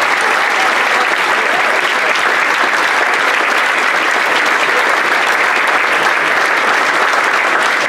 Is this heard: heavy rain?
no